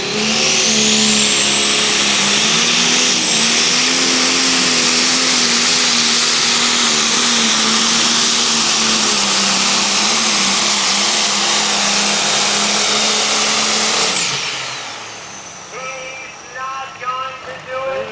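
A Pro Stock Super Stock pulling tractor roars at a truck and tractor pull, its engine holding a loud, sustained high-revving drone before easing off at the end, with crowd and announcer faintly beneath.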